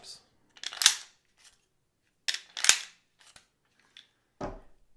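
Smith & Wesson Shield magazines drop out of the pistol and are handled: two loud, close metallic clacks about two seconds apart, each with a short rattle, plus lighter clicks and a dull thump at the end, with no speech.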